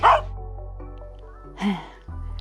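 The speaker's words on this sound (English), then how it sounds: "Also dogs want to play during the evening." Dogs playing outdoors in the evening, with two short barks or yips, a sharp one at the start and another at about the middle, over a steady low background hum.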